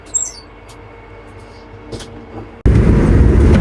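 A Vande Bharat express train heard from inside rumbles steadily at low volume, then the roar of the moving train jumps abruptly louder and stays loud to the end, running at about 128 km/h.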